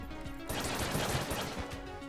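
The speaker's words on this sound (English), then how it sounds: "I think I like this pistol, actually." Rapid pistol fire in the twin-stick game Enter the Gungeon, a dense run of quick repeated shots over game sound, starting abruptly after a quieter moment and continuing to the end.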